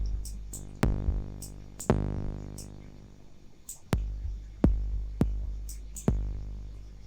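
A distorted, phase-modulated sine-wave synth tone, a buzzing harmonic-rich drone punctuated by sharp repeated clicks and hits as the sound is tweaked, moderately loud and alone.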